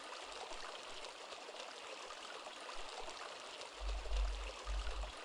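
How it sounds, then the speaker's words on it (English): Water streaming and trickling in the asylum courtyard of the video game Sanitarium, a soft continuous rush with a low gurgle that swells louder near the end. "So much water"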